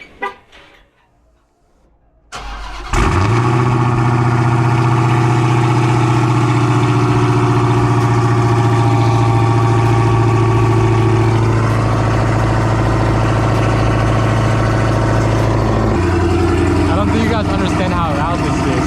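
A 1000 HP Dodge Hellcat Redeye engine cold-starts after a couple of seconds of near silence, then roars up into a loud, sustained high idle with deep harmonic drone, dropping slightly in pitch near the end.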